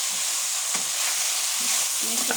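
Vegetables frying with spices in a Bengali home kitchen, a steady close sizzle throughout with occasional scraping stirs of a spoon in the pan.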